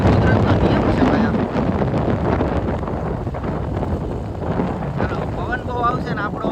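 Strong wind buffeting a microphone outdoors near Girnar, Junagadh, in rainy weather, a loud, continuous roaring rumble that covers the whole stretch, with faint voices partly buried underneath.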